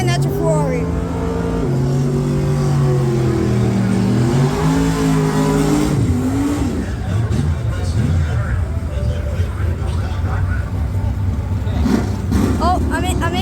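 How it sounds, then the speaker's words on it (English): Ferrari sports car engine at Cayuga Speedway, a loud revving note rising and falling over the first seconds, then a rougher, noisier roar with people talking over it. "And that's a Ferrari."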